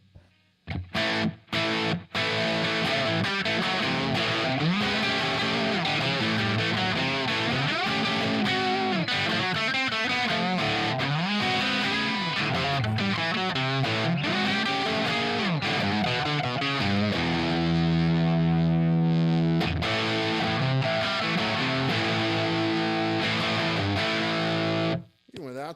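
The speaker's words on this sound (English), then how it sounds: "Throw a little bit of direct drive on top of that." Loud electric guitar, a Gibson, through a prototype amp with overdriven, gritty tone playing riffs and bends, ending on sustained ringing chords, no talking over it.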